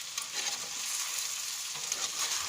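Seafood paella with assorted meat being stirred in a pot, a steady close sizzle and frying crackle with scraping stir sounds running throughout, no voices.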